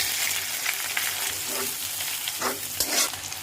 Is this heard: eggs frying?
yes